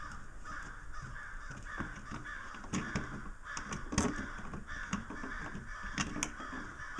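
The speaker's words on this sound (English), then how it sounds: "Those are awfully distracting crows." Crows caw outdoors, heard faintly at a distance through a room where electrical outlet work is underway, with scattered caws repeating irregularly over a steady background hiss.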